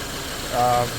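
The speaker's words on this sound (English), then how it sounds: "The engine kind of changes with the pressure when you press it, that I noticed." A Subaru Impreza engine idles steadily during an AC recharge, a low continuous hum that rises briefly as the load shifts, heard close by under a voice.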